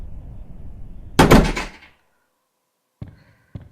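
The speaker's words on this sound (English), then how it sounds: "let's open this door" A door in a horror video game opens with a loud, close wooden thunk and rattle, then a short silence and two fainter knocks.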